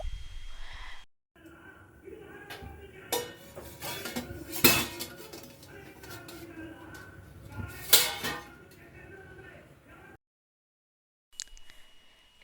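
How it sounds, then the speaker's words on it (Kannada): Metal plate clanks onto a pan covering rice roti on the griddle, sharp clinks and scrapes of metal ringing out close, with quieter stretches and a short silence between. "ಇದಕ್ಕೆ ಪ್ಲೇಟನ್ನು ಮುಚ್ಚಿ ಸ್ವಲ್ಪ ಹೊತ್ತು ಬೇಯೋದಕ್ಕೆ ಬಿಡಬೇಕು"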